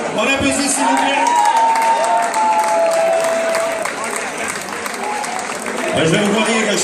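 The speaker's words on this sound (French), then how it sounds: "Michel Rodon, on applaudit s'il vous plaît." An audience at a 45th anniversary celebration at Les Deux Pierrots in Old Montreal applauds loudly and steadily for nearly seven seconds, with cheering voices and a sustained tone rising above the crowd.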